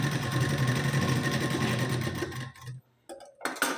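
A sewing machine runs continuously while double-stitching the tucks of a size 32 katori blouse, a close, steady whir for over two seconds before stopping, then a few short bursts and clicks.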